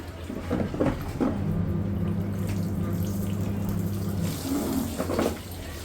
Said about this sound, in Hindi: मैंने ये बाथरूम धो दिया पाइप लगा के